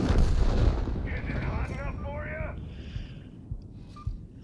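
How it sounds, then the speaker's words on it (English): Cannon shot in the tank game Steel Hunter: a heavy booming blast at the start that rolls off into a long rumbling tail, with game interface tones, a light thud later, and someone speaking over it. "And one last shot."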